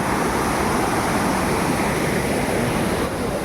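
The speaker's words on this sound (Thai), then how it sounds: "ดูรูนะครับนี่เป็นรูของน้ำตก แต่วันนี้น้ำลงมาเยอะนะครับผม" Heavy torrent of water at Saeng Chan waterfall in Khong Chiam, Ubon Ratchathani, plunging through a rock hole after high flow, a dense, steady, loud roar close by with no pauses and no voices.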